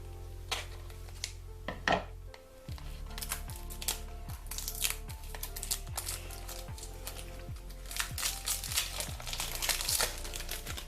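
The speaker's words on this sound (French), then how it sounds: "je vais l'ouvrir hors champ avec une paire de ciseaux" Crinkly plastic packaging rustles and crunches while scissors snip through it in a series of short, regular cuts, close up.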